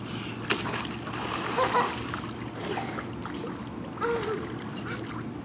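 A child splashes into water while swimming, with a few distinct splashes and ongoing sloshing over a steady outdoor water background and faint voices.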